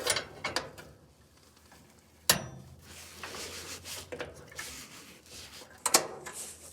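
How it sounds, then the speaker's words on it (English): A bolt comes off the metal cabinet of a Maytag Neptune gas dryer with close ratcheting clicks and scraping, and two sharp metallic knocks stand out among the softer mechanical rubbing. "Next, you're gonna take this bolt off over here."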